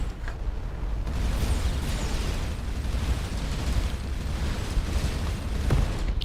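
Enemy rocket explosions in the space game Starcom: Unknown Space form a sustained, loud rumbling roar of blasts and bursts, with sharper pops near the start and end.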